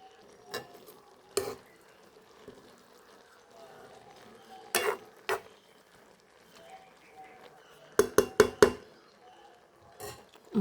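Jackfruit avial is stirred in a pot: scattered sharp clinks and scrapes of a spoon against the metal, some in quick clusters, separated by quiet gaps.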